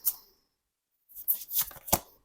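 Tarot cards being shuffled by hand during a reading, a brief flick, a pause, then a quick run of papery riffling and slapping cards up close, with no talk.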